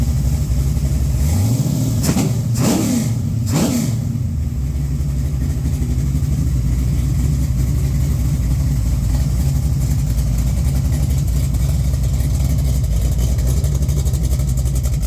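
A Mopar 408 stroker small block with Trick Flow heads and a carburetor runs on an engine stand for break-in, giving a loud, steady rumble throughout with a few brief rising whines early on.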